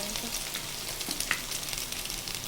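Pakora batter fritters dropped one by one into hot oil, frying with a soft, steady sizzle and faint crackles, fairly quiet throughout.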